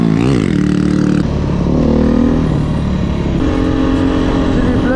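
A Romet Ogar 200 motorcycle with a swapped engine accelerating close by, its rising engine note repeating through gear changes, loud with some talk in the background.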